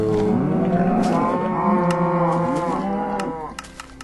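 Blocky Minecraft cows on a game server let out a continuous chorus of loud, overlapping moos, several animals lowing at once before the calls thin out near the end.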